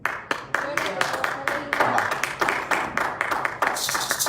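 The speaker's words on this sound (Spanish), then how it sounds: "Vamos a dar un aplauso al Señor." A church congregation applauds during a Spanish-language evangelical service, a dense, rhythmic burst of many hands clapping nearby that swells and continues steadily for several seconds, with a voice speaking over it.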